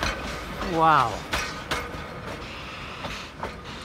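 A smoke-spewing tourist train rumbles past at Vennesla, with a steady low rolling noise and a few clanks from the cars, while someone nearby makes a brief exclamation.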